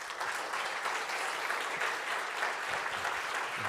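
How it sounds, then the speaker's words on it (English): An audience at a conference breakout session applauds after a talk, a dense, steady crowd clapping that holds evenly throughout at moderate distance, without any talking over it. "Let's get another round of applause for Gubcheap"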